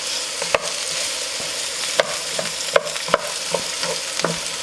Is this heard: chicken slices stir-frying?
yes